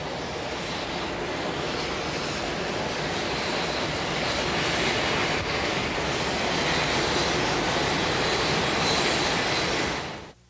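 A jet airliner's engine roars steadily on the tarmac as the plane is loaded for a flight to Miami, a loud, broad, continuous rumble with a high whine, cutting off abruptly at the end.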